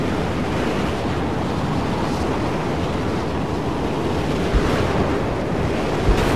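Heavy storm wind roaring in the Mad Max video game, a dense, continuous rushing wall of noise with steady loudness and a couple of faint knocks, no voices over it.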